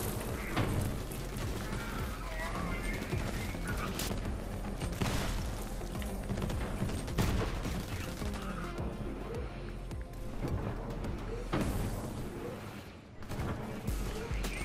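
Dense gunfire in the video game Borderlands 3, rapid bursts and shots mixed with booming explosions and crashes, loud and continuous throughout.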